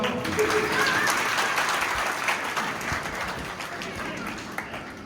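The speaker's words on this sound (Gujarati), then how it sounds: "ફરી એકવાર તાળીઓ પાડો." A school annual-function audience claps in a full, continuous round of applause that starts loud and eases slightly toward the end, with faint crowd voices underneath.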